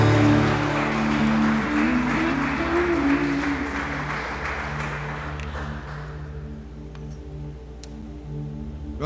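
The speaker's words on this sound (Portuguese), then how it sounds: "Se você puder, aplauda o Senhor." A church congregation applauds during a live worship service, sustained clapping that starts full and gradually thins and fades over several seconds beneath soft lingering organ or keyboard tones.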